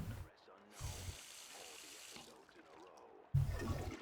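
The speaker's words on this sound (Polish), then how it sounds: "O, dobrze spuściłem wodę w kiblu." A toilet flushes in the Max Payne 2 video game, a rush of water lasting a few seconds, set among game sounds and a voice in the background.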